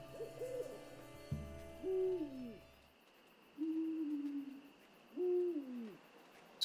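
An owl hoots in the video game Endling, several drawn-out hoots with pauses between, fairly clear over a hushed night ambience, with some softer tonal game sounds early on and no speech.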